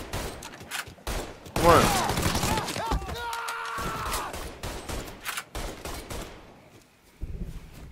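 Bursts of video game gunfire in Mafia 3 crackle through a firefight, with rapid shots and thuds over a busy game soundtrack while a player talks briefly.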